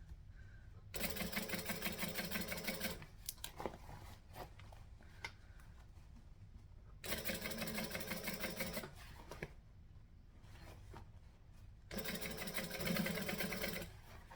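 A sewing machine stitching a bag seam, three bursts of rapid, even mechanical whirring separated by quieter pauses with faint handling clicks while the bag is readjusted.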